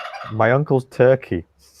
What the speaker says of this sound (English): That sound is my uncle's turkey.